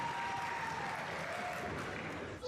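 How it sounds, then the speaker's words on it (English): A wrestling crowd at a ring-side event roars and applauds in a steady, dense wash of cheering and clapping that fills the whole stretch without a break. "Look at that shot and listen to this crowd."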